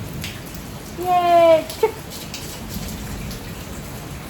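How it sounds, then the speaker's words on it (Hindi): Rain falls steadily outside a house as a soft, continuous hiss, with a brief nearby voice cutting in partway through. "घर के अंदर एसी चला के बैठो और बाहर बारिश हो रही है।"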